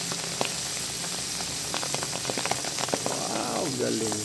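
Pork cracklings fry in hot oil, a close, continuous crackling sizzle with scattered pops and bubbling throughout, and a brief muffled voice near the end.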